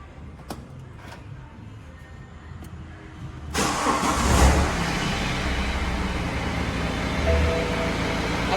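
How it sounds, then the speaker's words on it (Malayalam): A BMW car with an automatic gearbox cranks and fires up about midway, its engine jumping into a loud burst and then settling into a steady nearby idle, no talk. "BMW ഒന്ന് സ്റ്റാർട്ട് ചെയ്ത് കാണിച്ചു തരാം."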